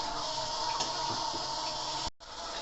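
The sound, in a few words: water running into Koln boiler after opening tap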